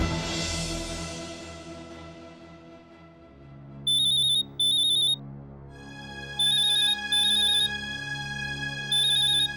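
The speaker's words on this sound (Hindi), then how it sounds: "उर्मिला बहन का फोन इस वक्त" An electronic phone ring sounds in short repeated double bursts, loud and near, over a low sustained background tone.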